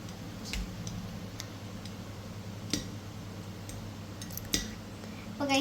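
Japanese jelly coffee being stirred in a glass gives a few sparse, light clinks and taps, probably from a spoon against the container. They are faint and spaced out over a quiet background.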